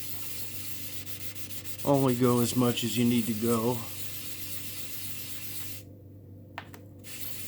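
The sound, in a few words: hand sanding a Petoskey stone with wet sandpaper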